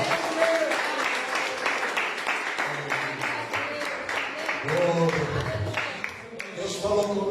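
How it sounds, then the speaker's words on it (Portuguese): A church congregation applauds in a steady, dense patter of clapping, with talk and voices over it throughout. "aplauda o Senhor"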